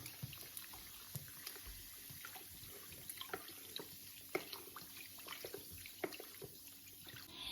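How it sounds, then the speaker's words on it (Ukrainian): Sparkling mineral water is poured over chicken wings in a bowl, a faint continuous trickle and splash with small fizzing pops scattered throughout. "А тепер заливаємо крильця сильно газованою мінеральною водою."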